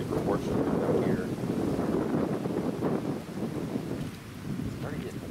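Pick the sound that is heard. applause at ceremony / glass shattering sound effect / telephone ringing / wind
wind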